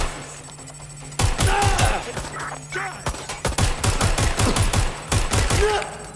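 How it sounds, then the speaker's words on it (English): Rapid bursts of gunfire ring out during a shooting in the video game Watch Dogs Legion, loud repeated cracks in uneven volleys over a low electronic hum. "There's a shooting."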